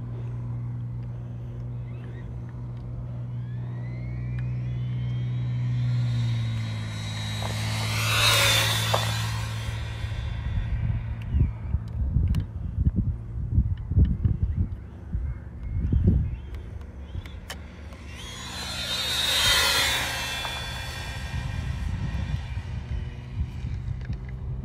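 A Kyosho Fazer MK2 brushless RC car on a 2S battery screams past twice at full throttle, a high whine swelling and fading each time, with gravel crunch and wind noise between passes.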